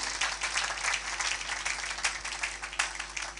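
Church congregation applauding during a sermon, a steady wash of many hands clapping together at fairly even loudness, with no speech over it.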